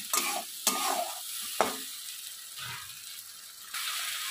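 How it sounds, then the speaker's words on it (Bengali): Ginger, tomato and cumin masala paste with turmeric and salt sautés in a pan for rui fish curry, a steady sizzle broken by a few sharp scraping stirs near the start. "এবার এটা দিয়ে দেবো। এটা ভালো করে কষিয়ে নেব।"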